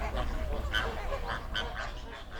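Flamingos at an alkaline lake in Kenya give a busy chorus of honking, goose-like calls, several birds overlapping at moderate distance over a constant outdoor background.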